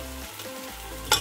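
Onion and garlic sizzle in vegetable oil, a steady close crackle over about a second, with a short louder hiss at the end.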